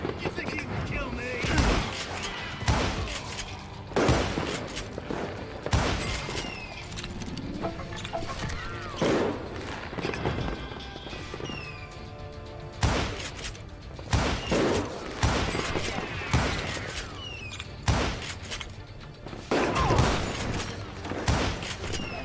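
Repeated gunshots in the western video game Call of Juarez Gunslinger, aimed at oil lamps, sharp cracks arriving in irregular bursts over roughly twenty seconds, with talking and game sounds in between.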